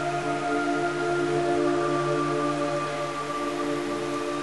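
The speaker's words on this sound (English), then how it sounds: "It's raining blood." Steady rain hisses continuously in Metal Gear Solid 3 Snake Eater, a dense, even wash of falling water beneath sustained tonal hums, with no voices.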